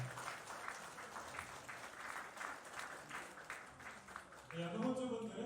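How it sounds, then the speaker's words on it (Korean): Guests at a wedding in Busan clap for the couple, quiet but steady applause that carries on for several seconds, and then a voice breaks in over it near the end. "큰 박수 부탁드립니다."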